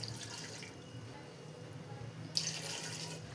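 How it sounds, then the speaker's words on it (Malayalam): Water pours into a pressure cooker holding jackfruit, a soft trickling splash that fades out, then returns as a brighter, stronger stream near the end; fairly quiet and close, with no talking. "ഇതിലേക്ക് ആവശ്യത്തിനുള്ള വെള്ളം കൂടെ ഒഴിച്ചു കൊടുക്കാം."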